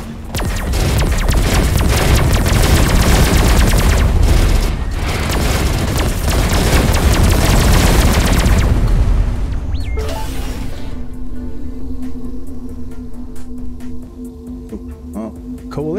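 Spaceship weapons fire and explosions in the space combat game Everspace 2, with dense rapid blasts and booms filling the first ten seconds before fading to a lower rumble with scattered shots.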